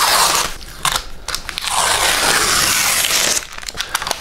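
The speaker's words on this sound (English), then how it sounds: "Oh yeah, that is a good peel right there." Protective film being peeled off a plexiglass disc, a sustained tearing, crackling rustle that runs loud and close for a few seconds between short crinkly bursts.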